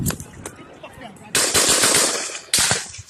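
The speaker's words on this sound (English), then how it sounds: "The first 3 shots, you could tell, were more focused shots, but that second burst that he had was pretty quick." Recorded gunfire from a weapon, rapid bursts of sharp cracking shots, with a couple of isolated reports followed by two dense, loud fast-firing bursts.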